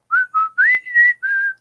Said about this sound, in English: Oz, you gotta send that box of whistles, man.